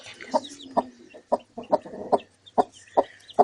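A hen and chicks cluck in short, repeated bursts with a few higher peeps mixed in, close by and fairly loud, no talking.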